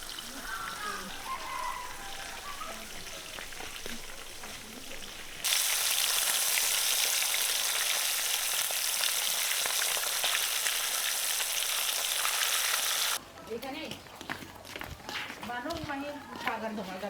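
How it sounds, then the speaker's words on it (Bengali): Fish frying in oil in a village courtyard: a loud, steady sizzle bursts in partway through and roars for several seconds before dropping away, with voices talking before and after. "আমরা উঠোনের মধ্যে রান্না মানে মাছ ভাজা করতেছি।"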